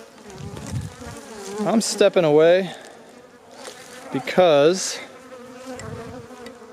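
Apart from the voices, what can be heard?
bee buzzing near the camera at a beehive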